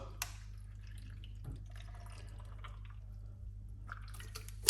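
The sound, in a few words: pouring water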